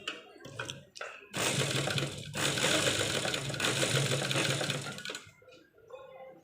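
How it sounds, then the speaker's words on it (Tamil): A sewing machine stitches a zip into the side seam of a blouse. A close, steady burst of rapid whirring lasts about four seconds, with quieter handling sounds before and after. "எட்ஜில் பேக் ஸ்டிச் போட்டோம்."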